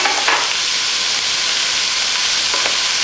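Two cloves of older garlic sizzle steadily in a hot pan, a continuous close frying hiss that runs the whole time with a couple of faint stirring scrapes and no voices.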